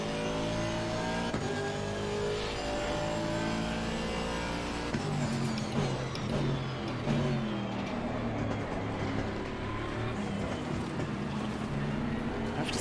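A race car in Assetto Corsa Competizione drives continuously, its engine note droning steadily with shifting harmonic pitch as it accelerates and changes gear, loud and close throughout with no talking.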